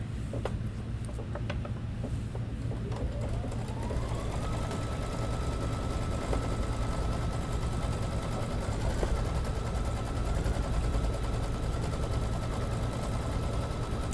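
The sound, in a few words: embroidery sewing machine stitching a swirl applique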